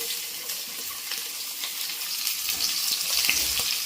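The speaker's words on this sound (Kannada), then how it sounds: "ನೋಡಿ, ಚೆನ್ನಾಗಿ ಎಣ್ಣೆಯಲ್ಲಿ ಫ್ರೈ ಆಗಲಿ." Peeled veld grape stems (mangaravalli) fry in oil for a chutney, a close, continuous crackling sizzle with faint spoon scrapes, growing slightly louder toward the end, no voices.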